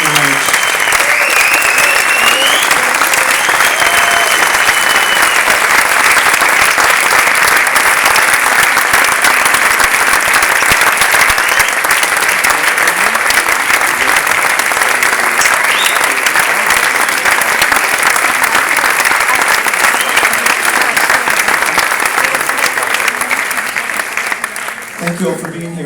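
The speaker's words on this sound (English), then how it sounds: "If we could ask them to stand up again and give them a round of applause" A film festival audience gives sustained, loud applause for a film's cast and crew in a hall, a dense steady roar of clapping that fades slightly at the end.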